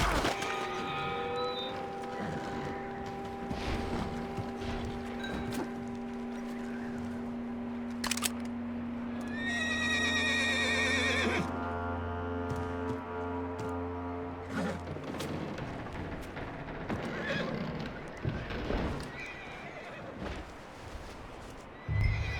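A horse neighs with a drawn-out whinny in the Red Dead Redemption 2 video game, set over steady tonal game ambience with a few faint hoof and tack clicks.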